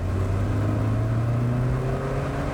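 A car being driven produces a steady engine drone with a low hum that rises gently in pitch, heard from inside or close by with no talking.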